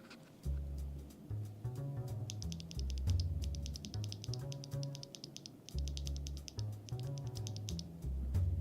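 Clacky keystrokes on an Epomaker TH40 pocket-size 40% mechanical keyboard with RGB lighting, typed in steady fast bursts close to the mic, with brief pauses between runs and no voices.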